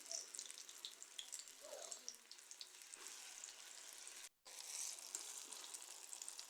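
Small fritters made from ripe jackfruit frying in oil, a soft, steady hiss of bubbling that stays fairly faint throughout and cuts out for a split second near the end.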